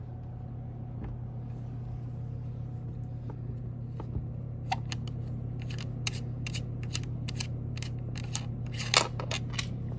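The SeaLife Sport Diver underwater camera housing is unscrewed, giving a run of sharp, close clicks and ratchety ticks over a constant low engine rumble.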